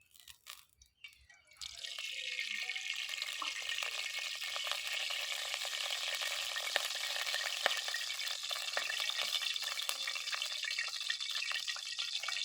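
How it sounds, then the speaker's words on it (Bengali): Dry red chillies drop into hot white oil after a few quiet knocks, then fry with a close, steady sizzle and scattered crackling pops that continue for about ten seconds. "শুকনো লঙ্কা ভাজা তেলে দিয়ে দেব সাদা তেল"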